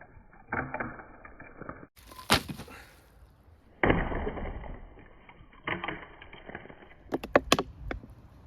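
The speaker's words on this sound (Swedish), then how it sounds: "Taktisk tillämpning är som alla vet att hugga i plastflaskor fyllda med vatten." A Schrade Regime knife hacks into water-filled plastic bottles: several heavy, close chops, each followed by a crackling, splashy rattle of plastic, ending with a quick cluster of sharp clicks.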